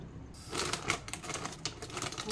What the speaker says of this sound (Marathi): आता मी सगळी भेंडी आहे ना कापून घेणार